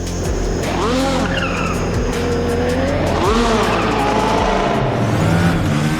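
FR X-22 race car in the RaceRoom racing game accelerating hard, its loud engine sweeping up through quick gear changes with tire squeal and skidding, close and continuous.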